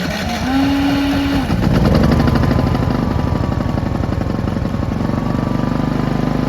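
A Predator 5000 watt generator with its panels removed, damaged in a bad wreck, cranks with a rising whine and then catches, settling into a loud, steady engine drone close by.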